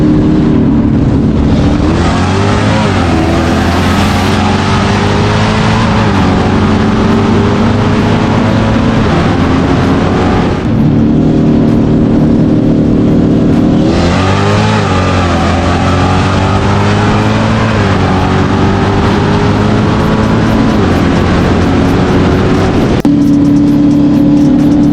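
A twin-turbo Dodge Viper on 8 pounds of boost and a 426 Hellcat on racing runs: a loud, continuous engine roar with rising and falling revs and gear changes, saturating throughout, with no voices.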